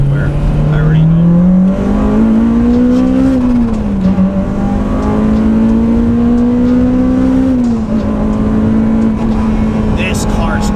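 A Honda EP3 Type R engine pulls hard in second gear, a loud, close drone climbing steadily in pitch with a brief dip at a shift-like break, then holding a high steady note; a voice briefly speaks over it.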